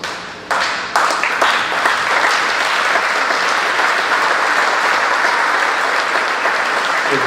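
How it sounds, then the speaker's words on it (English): At a pro wrestling Hall of Fame induction, a crowd bursts into loud, sustained applause that builds quickly from a few early claps into a dense, steady roar of hands. "So do me a favor, clap loud"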